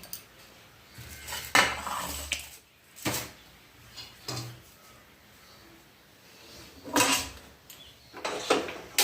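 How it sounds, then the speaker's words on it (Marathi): A metal kadhai is set down on a gas stove in a home kitchen, with several sharp clanks and scrapes of metal spaced out over several seconds, separated by quiet gaps. "आता मी ठेवत आहे गॅसवर गॅसवर कढई"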